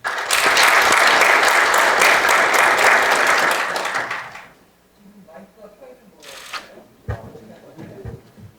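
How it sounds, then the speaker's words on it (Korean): Loud applause from a forum audience at a Korean naval policy session welcoming a Seoul National University professor, dense clapping for about four seconds that fades out, followed by quieter room noise with a few soft clicks and a brief voice. "큰 박수로 환영해 주시길 바랍니다."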